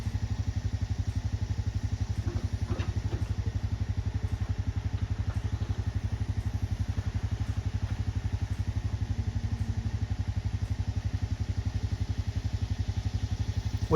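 A backhoe digs out and widens a pond, its diesel engine chugging in a steady, even rhythm throughout, with faint clanks and knocks from the bucket now and then over the constant drone.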